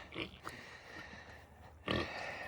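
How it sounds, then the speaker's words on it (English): Pigs on a small five-acre farm in springtime, a sow with her growing piglets, giving scattered low grunts with a sharper burst near the end, fairly close with some background noise. "And here are the piggies."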